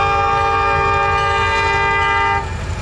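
A P5A air horn mounted on a locomotive's hood blares a loud, sustained multi-tone chord for over two seconds, then cuts off abruptly, leaving rumbling engine noise.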